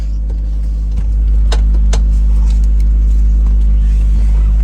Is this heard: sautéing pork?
no